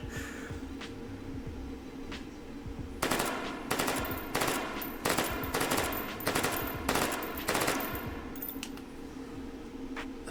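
An MP5 submachine gun fires a rapid string of about nine sharp, loud shots after a few seconds of quiet background, each report crisp and close.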